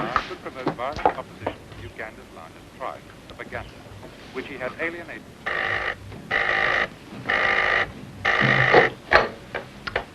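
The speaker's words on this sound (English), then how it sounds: "The red phone in your study is ringing" A red telephone in a study rings in four loud, evenly spaced bursts after a few seconds of speech, the ringing close and dominant.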